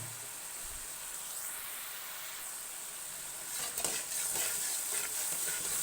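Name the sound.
whole cumin and red chili spices frying in a kadhai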